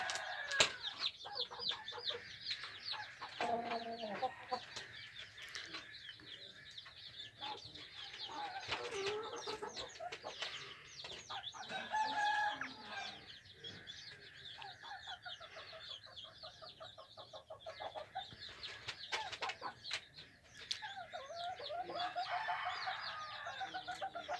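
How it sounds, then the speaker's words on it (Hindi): Several chickens cluck and murmur close by in a faint, busy chorus on a rooftop, with occasional sharper calls and rustling in the background. "देखिए वो दोनों मुर्गा खा रहा है।"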